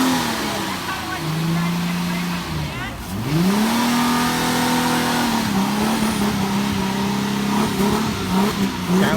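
A 2010 Ford Mustang engine revs at a public auto auction, rising and falling through several loud, sustained revs up close, with voices talking over it.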